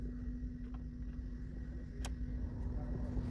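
The HVAC blower fan motor of a Smart Fortwo 451 micro-hybrid runs at its lowest speed setting, a steady low hum with a faint tonal whine, close and continuous, with a brief click partway through.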